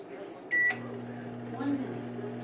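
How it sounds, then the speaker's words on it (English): An Alexa-enabled microwave oven sounds a single bright beep, then starts running with a steady low electrical hum that continues to the end. "Alexa, microwave 1 minute."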